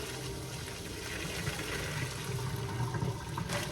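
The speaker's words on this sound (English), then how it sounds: "we're about to pour the pasta in here" Pasta and water poured into a kitchen strainer, a steady rushing, splashing flow that runs continuously and fairly close throughout.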